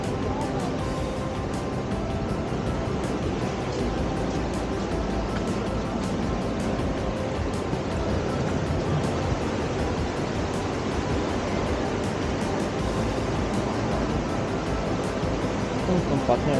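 Ocean surf at a surfing spot in La Union, Philippines rolls in as a steady, broad wash of breaking waves, loud and continuous with no distinct pauses.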